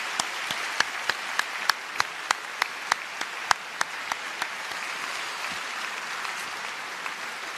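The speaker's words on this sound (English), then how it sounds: "So a big applause to you, because you concluded a wonderful year." Audience applause at a College of Europe closing ceremony in Bruges, a sustained, fairly distant patter of many hands with occasional crisp louder claps, continuing evenly to the end.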